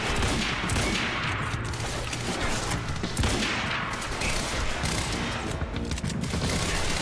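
Gunfire in the Quantum Break video game: dense, loud bursts of automatic shots rattle in rapid succession for several seconds with scarcely a pause, sounding close and harsh.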